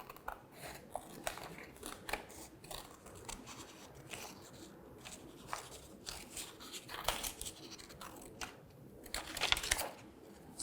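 Scissors snipping through paper while a shape is cut out, soft irregular crisp cuts and rustles close up, fairly quiet, with no talk.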